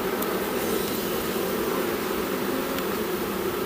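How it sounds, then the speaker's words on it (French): A queenless honeybee hive hums with a steady, dense, moderately loud buzzing that fills the space evenly, with no voices. "on dit que la ruche elle chante. Et normalement, quand ça fait ce bruit là, c'est qu'il n'y a pas de reine"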